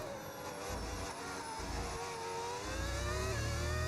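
V10 Formula 1 engine in the F1 25 racing game revving steadily, a sustained high whine with rising pitch sweeps, loud and close with no talk over it.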